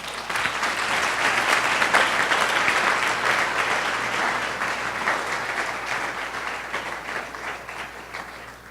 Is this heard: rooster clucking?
no